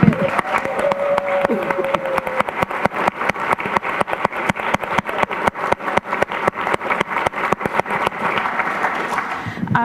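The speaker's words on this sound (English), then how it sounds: "could we have a massive round of applause for our spectacular moderator, Catarina from the Ministry of Health" Sustained applause from a 2016 Christchurch mayoral debate audience for the moderator, dense rhythmic clapping that carries on steadily throughout.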